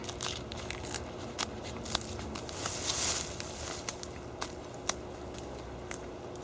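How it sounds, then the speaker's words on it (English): A nettle stalk crackles as it is pressed flat by hand, giving scattered sharp little snaps over a constant background hiss. "you're going to take this stalk and you're going to flatten it. And just flatten it. You hear it crackle."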